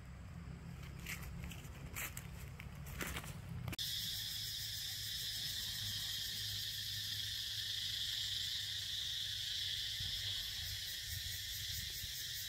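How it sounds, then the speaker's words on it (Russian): Cicadas shrill loudly in a forest beside a campfire, a dense, continuous high-pitched buzz that starts abruptly a few seconds in and holds steady after some earlier rustling and knocking. "Слышите, как сильно цикады шумят?"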